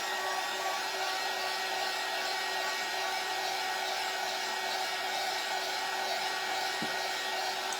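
A hair dryer blows hot air over a fresh coat of paint on a Hobby Lobby craft surface, a steady, even whirring hiss running unbroken from start to finish at close range.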